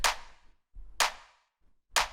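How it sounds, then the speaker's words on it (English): Three full, punchy clap samples for minimal house, each struck alone at a steady interval of about one second, with a bright, wide snap and a short decaying tail. "It's important to choose like a really good clap sample."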